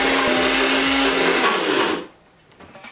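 A blender whirs loudly as it churns a thick, banana-free smoothie bowl, a steady motor roar for about two seconds before it switches off, leaving quiet with faint handling noise.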